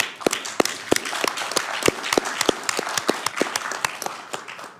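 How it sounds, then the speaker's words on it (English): Scattered applause at a board meeting from a small group, with individual hand claps standing out sharply and irregularly over a softer bed of clapping, moderately close and without talk. "that's applause."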